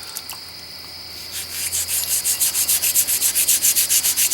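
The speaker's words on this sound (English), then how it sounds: "we're gonna scrub this thing up a little bit and see how it looks" Rust being scrubbed off a steel hatchet head outdoors: a steady run of quick, rhythmic scraping strokes, close and fairly loud, building up after a quieter start with a faint insect-like hiss in the background.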